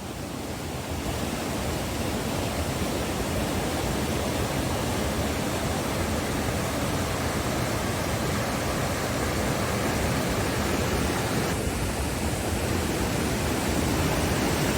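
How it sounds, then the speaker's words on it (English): Brook's Falls near Huntsville, Ontario pours in a steady, dense roar of falling water, loud and unbroken throughout with no voices. "there's a beautiful waterfall called Brook's Falls"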